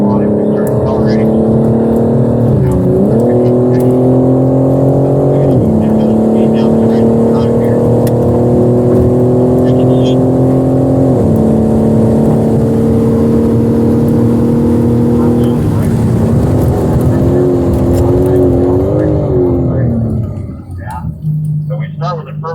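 A race car accelerates on a track, its loud, steady engine note climbing through several gear changes with brief dips between shifts, close and continuous, before easing off near the end; someone talks over it.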